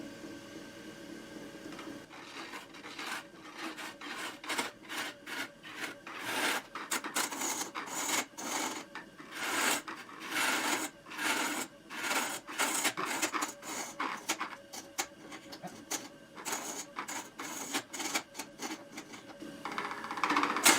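A lathe tool repeatedly bites and chatters against a spinning wood burl as it hits a void, giving rapid rhythmic rasping bursts with uneven catches, close and continuous without speech.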